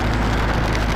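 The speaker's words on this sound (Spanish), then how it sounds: "Pero no, la lluvia no quiere dar tregua" Heavy rain pours steadily on a motorcycle ride to Valdez, Alaska, a dense, loud, unbroken hiss and patter close by with no voices.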